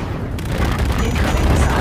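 A missile launching in the Call of Duty Infinite Warfare video game, opening with a sudden loud blast that rolls into a sustained roaring rush lasting to the end.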